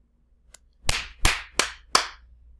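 Four sharp hand claps, each about equally loud, spaced at a steady, slightly uneven rhythm after a faint tap, with no voices.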